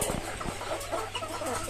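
Hill chickens on a farm cluck faintly and briefly in the distance over a steady background hum.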